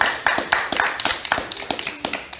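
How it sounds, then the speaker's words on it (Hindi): Scattered, uneven hand claps from a small media gathering at a TV serial cast press event, a handful of sharp near claps in a loose, irregular rhythm with no talk. "तालियां।"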